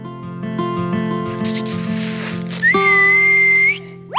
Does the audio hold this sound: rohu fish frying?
no